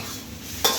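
Holy basil and crispy pork stir-fried in a pan, a steady scraping stir over low sizzling with a louder burst of hiss near the end, close by.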